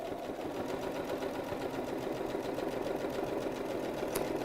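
A sewing machine runs steadily as it stitches a gently curved dart in fabric, a continuous even whirring hum, close and fairly loud, with no talk over it.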